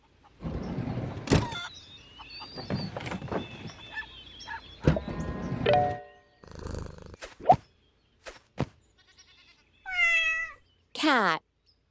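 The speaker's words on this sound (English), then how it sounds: "Cat." Cat meowing from a children's farm animals sound book, with several meows heard near the end after a run of louder mechanical thumps, clicks and purring-like rumbles.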